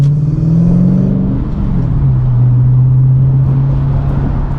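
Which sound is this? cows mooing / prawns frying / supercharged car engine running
supercharged car engine running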